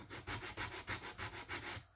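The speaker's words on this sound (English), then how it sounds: "I'm going to like fold one and just kind of go in and try to clean it up, try to get into those little crevices like this" A folded sheet of sandpaper rubs by hand into the crevices of a routed plywood honeycomb, about eight quick back-and-forth scrubbing strokes in an even rhythm, close and quiet.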